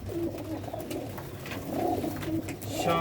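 Rooftop pigeons of a pure breed coo steadily in soft, repeated low calls, with faint background noise throughout and no talking.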